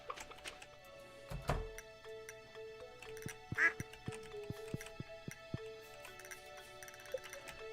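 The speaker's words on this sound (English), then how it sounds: "Okay, ducks are laying eggs now" Ducks quack in the farming game Stardew Valley, a clear burst of quacking standing out over soft game music and light ticking sounds.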